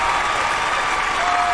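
Steady, dense applause with no breaks fills the whole stretch, a loud, even wash of many clapping hands.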